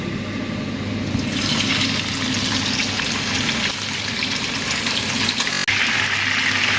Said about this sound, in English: I'm gonna turn down the heat and let's start frying.